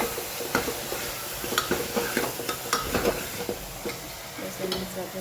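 Food frying in a pan with salt just added, stirred so the spoon scrapes and clinks in an irregular rhythm over a constant close sizzle; no speech.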